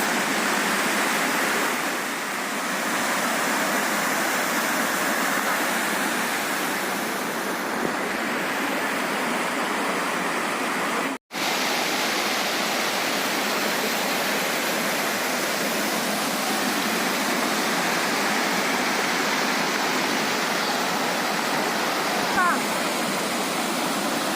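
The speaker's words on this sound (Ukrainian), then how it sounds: "Річка Свидівець." The Svydivets mountain river in the Carpathians roars steadily like rushing rapids, a dense, close, unbroken wash of water noise with one momentary cut near the middle.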